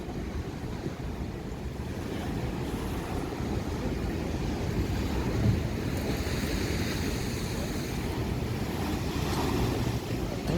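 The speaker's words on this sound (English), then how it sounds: "There is a force behind these waves." Surf pounds steadily onto the funnel-shaped beach at Clovelly, where people are swimming, with strong waves rolling in as a continuous loud wash of water, joined by wind buffeting the microphone.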